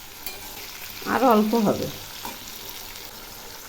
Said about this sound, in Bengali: এগুলি ভাজা প্রায় হয়ে এসছে